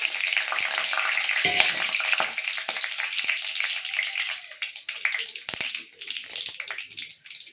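Fenugreek, mustard seeds and dried chilies frying in hot oil give a continuous bright crackle with popping bursts and a few light clicks, close and without talk.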